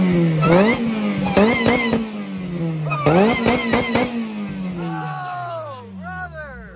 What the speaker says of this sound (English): Let me get some blower whine